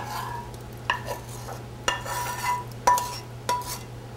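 Tex Mex mac and cheese stirred in a bowl, a spoon scraping and knocking against the side in a few distinct strokes about a second apart over a faint steady hum.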